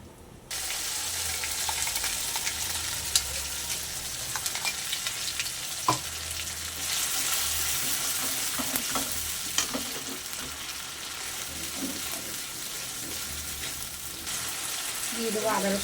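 Bay leaf, dried chili, cinnamon and cardamom sizzle steadily in hot oil, with occasional sharp crackles and pops and light stirring, close and continuous throughout with no talk.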